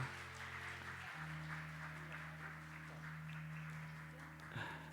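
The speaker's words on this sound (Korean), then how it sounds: "박수해 주시고 우리 꽃다발도 전해 주시도록 하겠습니다" A congregation claps in a Korean Methodist church during a service, a steady patter of applause spread across the room over sustained held musical tones.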